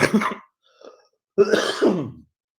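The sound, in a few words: cough and throat clearing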